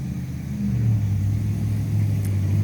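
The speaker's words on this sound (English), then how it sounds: "You're gonna get those loud cars and bikes and stuff." A heavy low engine rumble builds and swells as a loud car passes nearby, its drone holding steady for a couple of seconds.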